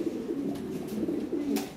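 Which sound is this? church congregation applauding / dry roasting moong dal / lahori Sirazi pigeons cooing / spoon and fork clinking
lahori Sirazi pigeons cooing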